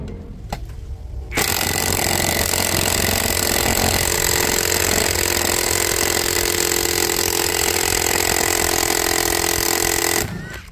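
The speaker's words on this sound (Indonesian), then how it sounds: "Nah, beda dengan ini impact driver yang menggunakan baterai 20 volt, jelas beda." A Stanley STDC-041LB 20V cordless impact driver drives into hard meranti wood, with a loud, close, continuous rattling hammer that runs for about nine seconds before cutting off.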